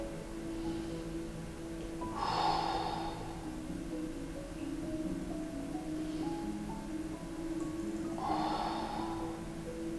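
Slow, controlled breathing during a breathing exercise for idiopathic pulmonary fibrosis, two audible breaths several seconds apart over a soft background of low music-like tones.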